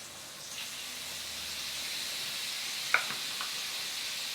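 Butter sizzles in a hot pan during a Valentine's dinner for two, a quiet, steady hiss with one small clink of a utensil partway through.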